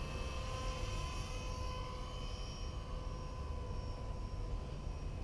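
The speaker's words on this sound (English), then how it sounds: "Pretty quick little heli once you put the nose down." Blade SRX200 RC helicopter flying fast with its nose down, a steady continuous whine of motor and rotor held at a constant level with no talk.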